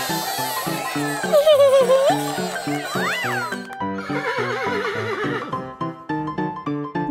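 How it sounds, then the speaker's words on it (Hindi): A horse neighs and whinnies loudly over a bouncy rhythmic music track, the whinny rising and falling in pitch against the steady beat. "घोड़ा।"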